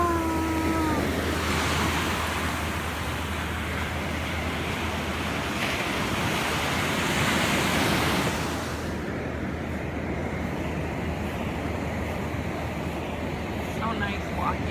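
Cold ocean surf washing in on a California beach, a steady broad rush of breaking waves with wind noise on the microphone, filling the whole stretch; a voice briefly speaks near the start.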